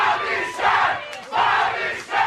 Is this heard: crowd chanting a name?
yes